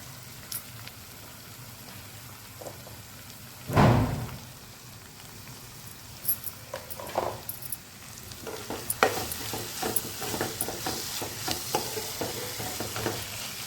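Cauliflower and potato sabzi sautéing with chilli powder and coriander powder in a pan: a steady low sizzle with a louder burst of stirring partway through, then scattered scraping clicks and crackles.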